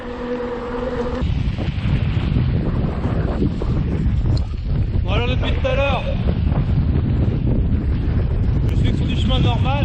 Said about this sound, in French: avec un putain de vent de face.